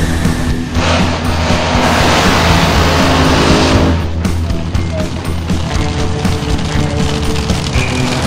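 A front-engine nostalgia top fuel dragster at a drag strip on a hot track, its engine roaring loud and close with a steady, heavy broadband blast that eases slightly after a few seconds, with no talk.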